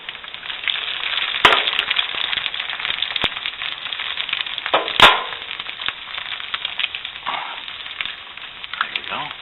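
Two eggs dropped into a cast iron pan, sizzling and crackling steadily with sharp pops and spatters scattered throughout, close and fairly loud.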